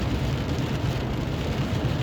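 Steady rain hisses continuously on a surface, a dense even wash of noise with a low rumble underneath.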